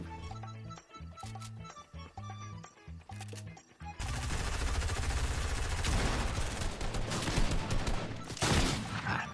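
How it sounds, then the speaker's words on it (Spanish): Rapid bursts of gunfire ring out in a Fortnite match, a dense rattling fusillade that follows sparse game sounds and keeps going loud for several seconds. "¡Son tiros, son tiros, son tiros!"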